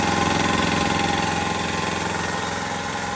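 A McGraw 29-gallon 165 PSI oil-lube belt-drive shop air compressor runs steadily and loudly, its even mechanical drone holding a constant pace with no pauses and no voices.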